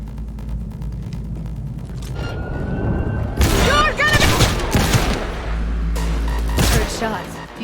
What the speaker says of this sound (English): Heard shots. You still alive?